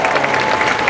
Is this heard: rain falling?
no